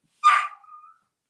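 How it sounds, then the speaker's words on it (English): A dog gives one sharp, close bark that trails off into a brief thin whine before silence returns, loud and isolated with no voices around it. "my daughter's pulling in the driveway, so the dogs are barking"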